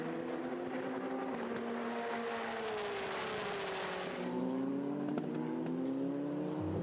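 Eurocup-3 race cars pull away from a corner onto the pit straight at the Paul Ricard circuit, engines rising and falling in pitch as they accelerate and shift, heard at a moderate distance.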